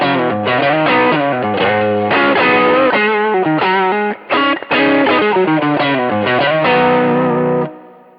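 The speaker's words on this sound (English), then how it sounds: "What you hear there is that slim down really thinning things out." Electric guitar through a Kemper drive with heavy distortion and the slim down control thinning the tone, playing a fast, continuous run of riffs and chords with a brief gap near the middle, loud and alone.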